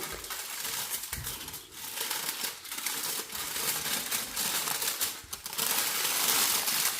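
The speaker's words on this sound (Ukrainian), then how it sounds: "тепер беру цей край і акуратно загортаю у фольгу" Aluminium foil crinkles as it is folded around a meatloaf, producing continuous close rustling and crackling with brief pauses and a louder, steadier stretch of crumpling at the end.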